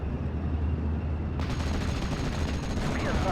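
Anti-tank gun firing in Steel Division: Normandy 44, a World War II strategy game set in Normandy, with dense overlapping battle gunfire and a sharp louder burst partway through, continuous and fairly loud with no voices.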